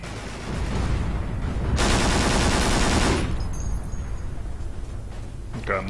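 Sustained gunfire from a Forgotten Hope 2 battle on the Gothic Line map, with a dense burst of loud automatic fire in the middle and steady rattling shots and combat noise around it, close and continuous.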